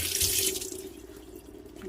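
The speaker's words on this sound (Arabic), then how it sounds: "نغسل بقى نغسلها شويه كده عشان لسه بتجيب اللي بينزل ده الميه بتاعتها" Kitchen tap running into a sink while salted fish is washed, a close steady splashing stream that quietens briefly before picking up again.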